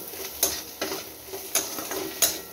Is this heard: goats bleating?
no